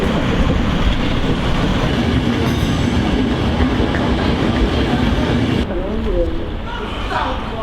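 A train from Genoa to Rome rumbles steadily along the rails with a constant roar and faint clacking, while people talk over the noise.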